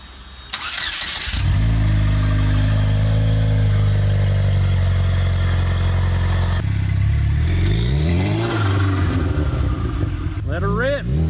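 A kit car engine cranks and catches, then settles into a loud, steady, throbbing idle. It holds near and constant throughout, with some engine pitch shifts near the end.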